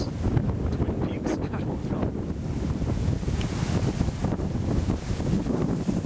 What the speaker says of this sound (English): Right now, the weather is probably about 50, 55 windy.